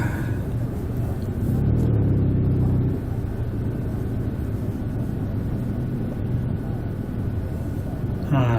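A car cruises along while its driver searches for a parking space. A steady engine rumble and road noise carry throughout, with a brief louder surge early on.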